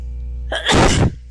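One loud, close sneeze with a brief wind-up and a forceful burst, heard in a classroom lesson over a steady low hum.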